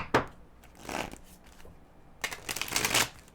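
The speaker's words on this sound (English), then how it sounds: "Let me shuffle the cards." Tarot cards are shuffled by hand in a few rustling riffle bursts, one brief, one longer and louder near the end, close up with no talk over them.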